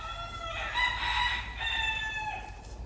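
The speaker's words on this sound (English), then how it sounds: "Listen to the chickens crow" A rooster crows in a quiet rural setting, giving one long, drawn-out crow that carries clearly at moderate distance over a steady outdoor background hum, with no talking.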